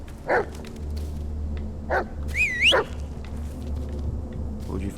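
A dog in the horror video game Blair Witch barks three times, short sharp barks spaced over a few seconds, with a brief whining yelp among them over a low ambient hum.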